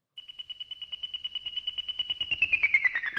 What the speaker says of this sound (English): It is an actual flying saucer that they recorded in 1967.